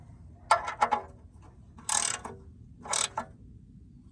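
Ratcheting clicks from a wrench tightening a new oil drain plug on a Honda Element, three short bursts of close, crisp ratchet turns with pauses between.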